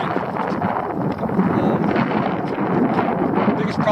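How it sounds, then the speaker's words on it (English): Strong wind buffets the microphone at sea off Guernsey aboard a fishing boat, a steady loud roar that runs without a break. "this is Guernsey, there's always wind."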